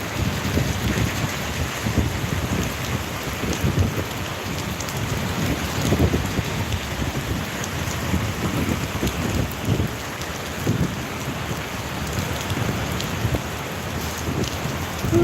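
Heavy afternoon rain in Papua pours steadily onto surfaces, a dense, loud hiss with scattered drops and low rumbles of thunder running throughout, with no talking.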